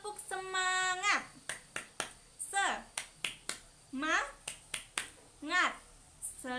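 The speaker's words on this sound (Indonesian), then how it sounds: "ayo kita tepuk semangat terlebih dahulu" Fourth-grade schoolchildren perform a rhythmic 'tepuk semangat' clapping chant in class, sharp unison claps alternating with sung chanted syllables in a bouncy, regular pattern, loud and close.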